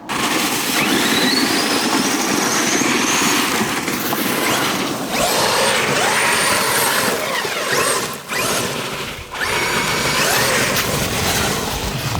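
Traxxas XRT and Arrma Kraton electric RC cars run on snow with a continuous loud, close whine and gritty churning rumble, dipping briefly twice as the throttle lets off.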